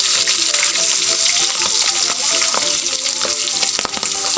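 Kanduli fish frying in a pan of hot oil, a loud, steady sizzle with crackling pops throughout, with a few brief clinks near the end and no talking.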